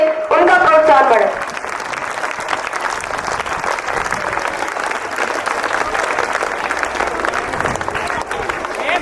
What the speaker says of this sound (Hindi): प्लीज जोरदार तालियों से उनका प्रोत्साहन बढ़े